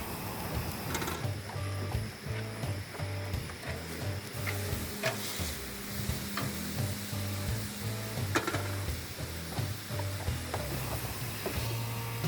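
Steak searing on a griddle: a steady, close sizzle with scattered clicks and scrapes, continuous throughout, over a faint tonal background.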